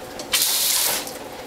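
Kitchen spray nozzle blasts water over juicer parts in a sudden, close hissing spray that lasts under a second before fading.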